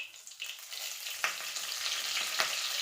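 Mustard seeds sputter and crackle in hot oil during tempering, a steady bright sizzle with a few sharper pops, close up and without talk.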